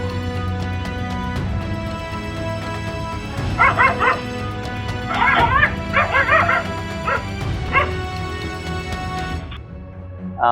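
A dog caught on CCTV barks, yips and whimpers while confronting a wild boar, with bursts of high, strained yelps in the middle section over steady background hum and a continuous tonal drone.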